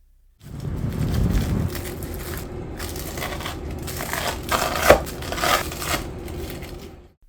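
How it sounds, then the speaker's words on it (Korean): Knife slicing through a crispy, deep-fried Chinese-restaurant-style dish, giving a steady run of close, crunchy crackles and snaps for several seconds with a louder crunch near the end. "이렇게 좋은 크기로 잘라주시면 되고요. 써는 소리 한번 들어보시죠."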